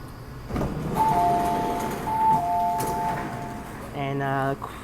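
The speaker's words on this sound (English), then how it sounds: "So this train goes to the north of Hong Kong because Shenzhen is north of Hong Kong" An MTR East Rail line R-Train runs through Hong Kong with a steady rumbling hum. Sustained electronic tones sound, followed by a pulsing chime near the end.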